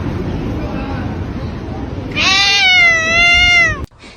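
A house cat lets out one long, drawn-out, wavering meow, close and loud, over steady background noise while someone brushes their teeth nearby. A short clatter follows just after the meow ends.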